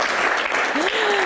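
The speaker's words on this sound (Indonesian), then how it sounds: "Tepuk tangan dulu dong," A studio audience breaks into a brief, dense burst of applause, loud and continuous, with a voice rising over it near the end.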